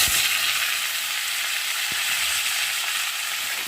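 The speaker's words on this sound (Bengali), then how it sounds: "আর এখন আমি আলুগুলো দিয়ে জিরের সাথে ভেজে নেব" Potatoes fry with cumin seeds in a hot pan for a vegetarian dish, giving a steady, close, dense sizzle that holds an even level throughout with no talking.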